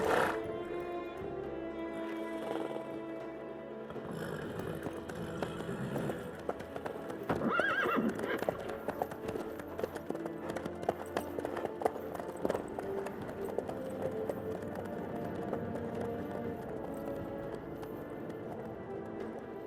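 Horse hooves clip-clopping in the Witcher 3 video game, a steady, fairly close rhythmic trot over game music, with a neigh or whinny early on.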